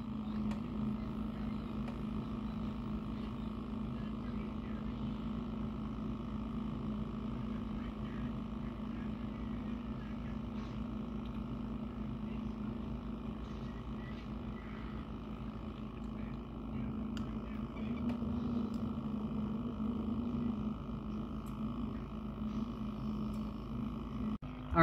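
A PC liquid cooling loop filled with mineral oil runs with its pump priming, giving a steady low hum and whir that holds evenly throughout with no talk over it.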